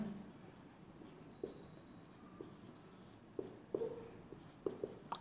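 Chalk or marker writing on a board during a chemistry lecture, heard as a series of short scratchy taps and strokes that come in small bursts, fairly close but quiet, with no talking.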